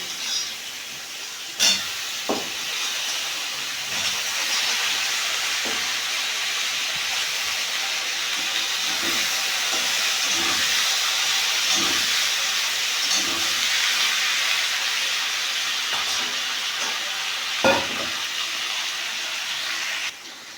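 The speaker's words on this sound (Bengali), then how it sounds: "এখন আমি চাল কুমড়োর ডাটা আলু দিয়ে দিচ্ছি" Potatoes and ash gourd stalks fry steadily in a pan with black cumin seasoning, a continuous loud sizzle and hiss running throughout, broken by a few brief stirring clinks and scrapes.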